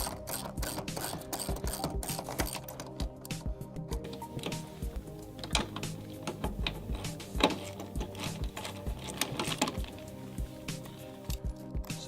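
A seatbelt rear retractor is loosened with a ratchet tool, giving a long run of rapid clicking and ratcheting pawl sounds with brief pauses, close and moderately quiet.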